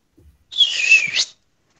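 A single sustained whistle blast signals the start of a race. The shrill, steady tone lasts under a second and is heard clearly on its own against silence.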